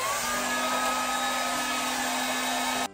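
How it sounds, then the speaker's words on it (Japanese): A hair dryer with alternating hot and cool turbo settings roars continuously at close range, a loud steady blowing whine that cuts off abruptly at the end. "ドライヤーは近づけて乾かすんじゃなくて、ちょっと離して乾かします。"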